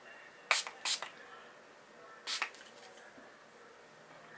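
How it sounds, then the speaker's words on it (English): Three quick hissing spritzes from a makeup setting spray bottle, two close together then one more a moment later, in a quiet room. "I'm just going to use my setting spray."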